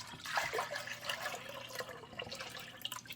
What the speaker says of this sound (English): Then I'm going to go ahead and add 4 more cups of just regular water.